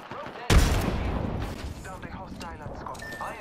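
Gunfire in the Apex Legends game: a sudden heavy burst of shots fades into scattered, fainter fire while voices chatter over the fight.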